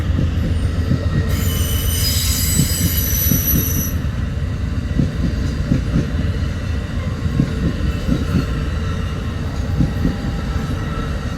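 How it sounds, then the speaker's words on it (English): Westbound Amtrak California Zephyr passenger train rolling steadily past at Hobson Yard in Lincoln, Nebraska, with a loud, high wheel squeal near the start over a continuous rumble and rhythmic clatter of wheels on rail. "Our westbound California Zephyr."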